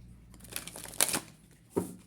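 Tarot cards are shuffled by hand in a quiet room, with a few soft, brief papery riffles and crisp flicks separated by near silence.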